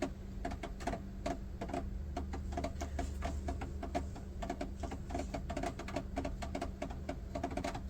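A sewing machine runs along quilt binding with a rapid, even train of mechanical ticks and clacks over a low motor hum. It is close and continuous, with no voices.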